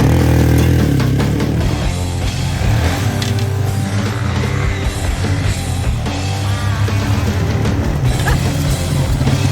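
A Yamaha TTR dirt bike is ridden outdoors, its small engine droning and revving continuously and loudly throughout, with rough wind and terrain noise mixed in.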